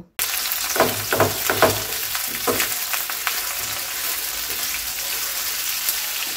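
Onions and green chilies fry loudly in a pan, a dense steady sizzle broken by several quick scraping stirs early on, close and without speech.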